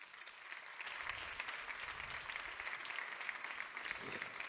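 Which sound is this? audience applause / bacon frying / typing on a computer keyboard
audience applause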